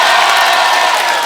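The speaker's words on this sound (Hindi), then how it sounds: "तो जोरदार तालियों से स्वागत कीजिए the multi talented actor mister Ayushman" Loud studio audience on a Hindi comedy talk show cheering and clapping to welcome actor Ayushmann Khurrana, a dense, sustained roar of applause with whoops throughout.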